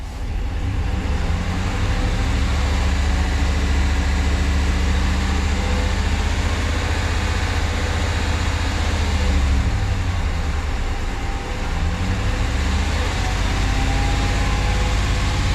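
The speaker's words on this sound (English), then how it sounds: "we're gonna do a slight rev because it's kind of good to vary the RPMs a little bit" Loud, close Hemi V8 truck engine idling after an MDS delete, a deep continuous rumble that rises briefly in a light rev before settling back to idle.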